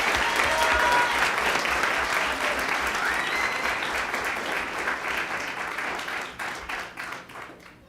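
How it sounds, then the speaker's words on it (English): School board meeting audience applauding Excellence in Education award recipients, a strong, steady wash of clapping that gradually thins and tapers into scattered claps. "Let's give them another round of applause."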